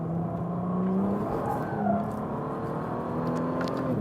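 Bentley Continental GT engine revs in a steady, sustained drone, moderately loud and close, with a faint whir in the background and no talking.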